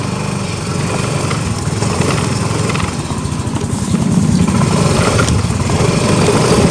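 A Yamaha Soul GT scooter with fault codes 42 and 46 runs close by, its small engine buzzing steadily with a slight rise in revs toward the end.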